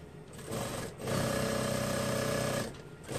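A sewing machine runs a stitch on raglan sleeve fabric, a loud, close, rapid mechanical whir that starts, holds steady for about two seconds, then stops, with short bursts before and after.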